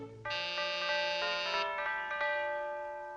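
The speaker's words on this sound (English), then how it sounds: "I rang the doorbell." A doorbell chime rings once, a clear bright sustained tone with a shorter second ring that fades out, loud and close with no voices.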